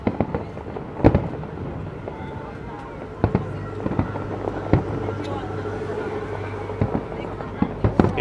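Fireworks at the Macau International Fireworks competition, with repeated sharp bursts and booms at irregular intervals. The bursts sound at a moderate distance over a steady murmur of a watching crowd.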